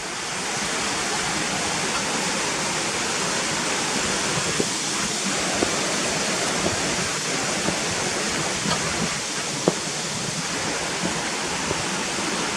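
The river in Gunnerside Gill rushes alongside a walking path, a dense, constant roar of flowing water heard close and unbroken throughout.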